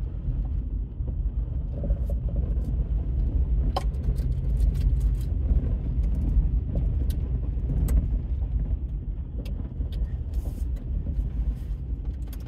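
A car driving slowly through a West Georgia trailer park, a steady low engine and tire rumble heard from inside the cabin, with small clicks and rattles scattered throughout.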